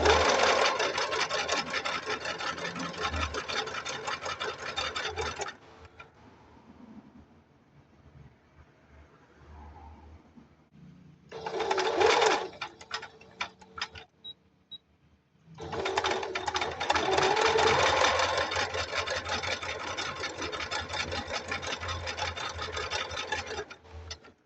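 Singer Advance sewing machine stitching a zigzag: a steady, fast mechanical whirring and clatter runs in two long bursts and one short one, separated by quieter pauses, close and alone.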